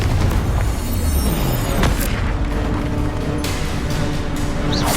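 A Confringo spell blast in Hogwarts Legacy, a loud, booming burst that rumbles continuously amid other spell impacts.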